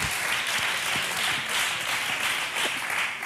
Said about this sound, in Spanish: Un fuerte aplauso, Isabel II.